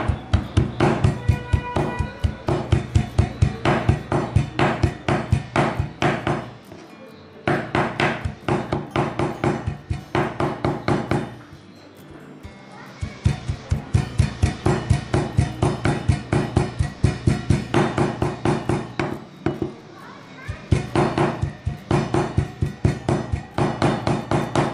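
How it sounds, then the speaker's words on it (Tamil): Boneless mutton being chopped into mince: loud, rapid, rhythmic blade strikes in long bursts, broken by a few brief pauses, close up with no talking. "மட்டன் கொத்தி எடுத்துக்கலாம்"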